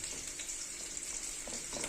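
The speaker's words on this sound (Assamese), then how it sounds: "ইয়াতে বিলাহীখিনি দি দিছোঁ" Chopped tomatoes frying in oil in a pan for matar paneer: a steady, bright sizzle with soft crackles and a light stir toward the end, close and fairly quiet, with no talk.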